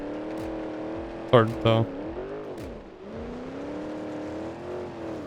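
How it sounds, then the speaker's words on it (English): Performance V8 car engine in BeamNG Drive, a rear-wheel-drive car idling and revving at moderate level, with one rising and falling rev under brief talk and a couple of sharp knocks. "Has some type of performance engine in it, maybe just like a V8."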